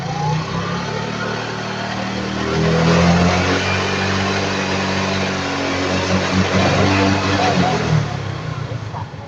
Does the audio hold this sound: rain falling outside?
no